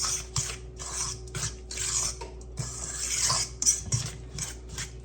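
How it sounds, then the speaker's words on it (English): A spoon scrapes and knocks around a bowl as a 1986 Betty Crocker meatloaf mixture with breadcrumbs is stirred, in a series of close, irregular rasping strokes and clinks. "I am going to stir this so that those breadcrumbs soften"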